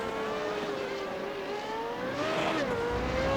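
Race cars at Silverstone circuit, a steady engine drone with a rising and falling pitch as a car powers along the track, fairly distant and continuous.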